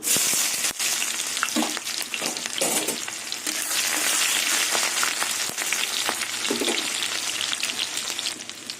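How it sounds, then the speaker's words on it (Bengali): Chopped onion hits hot oil tempered with panch phoron and fries with a steady, close sizzle, punctuated by a few stirring scrapes throughout. "ফোড়নে এবার কুচনো পেঁয়াজ দিয়ে দেবো"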